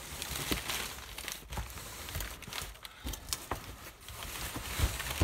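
Packing paper from a Lego box crumples and crinkles close by in steady, rustling bursts for several seconds.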